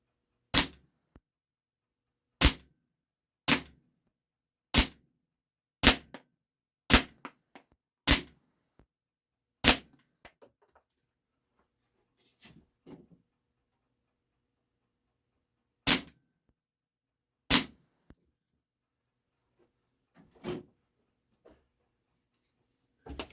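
Cybergun Taurus PT 24/7 G2 airsoft pistol fired at a target, about eight sharp snapping shots in a steady run, then a pause and a few more spaced shots, clear and close with no talk.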